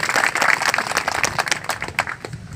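Audience applause at a stage event in India, a steady round of hand clapping from a seated crowd that rises quickly and holds for a couple of seconds before thinning out.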